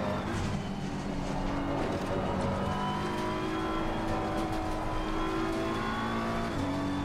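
A race car engine in a sim racing game at Kyalami, droning steadily at high revs, with the pitch rising and falling through gear changes and no gaps.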